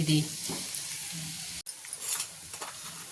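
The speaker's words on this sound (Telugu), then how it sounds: "బీట్రూట్ బాగా ఫ్రై అయ్యేదాకా, పచ్చి వాసన పోయేదాకా ఫ్రై చేయాలండి." Grated beetroot fries in a pan with a steady, close sizzle and occasional stirring scrapes, and a voice speaks faintly in the background.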